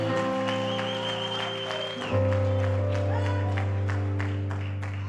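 A church congregation claps together over sustained keyboard or organ chords, the applause building after a couple of seconds and continuing steadily.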